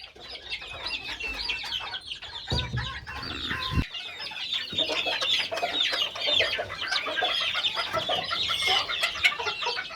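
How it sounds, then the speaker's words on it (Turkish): Chicken sounds around a pen of four young dwarf Indian Game (Aseel-type) chicks: busy clucking and chirping throughout, with a brief louder burst of mixed noise near the start, no talking. "Maşallah 4 cüce Hint yavrumuza."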